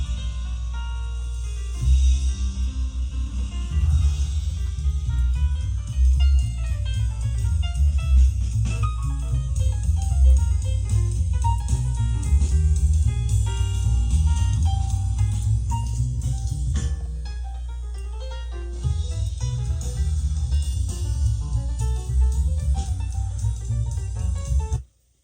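Jazz LP spinning on a vintage Sansui stereo system, with full band music playing steadily and loud throughout, a brief dip near the start and a short pause before it resumes near the end.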